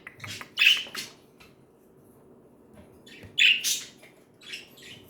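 Pet budgies give short squawks and chirps in two bright, close bursts separated by a quiet pause, with softer twittering trailing after, in a home room.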